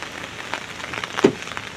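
Rain pattering steadily on an open umbrella outdoors, a close, soft, continuous drumming with a few sharper drops standing out, no talking.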